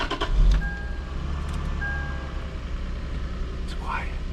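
A cold car engine idles with a low, steady rumble after a brief thump at the start; a faint tone and a short squeak come through near the end.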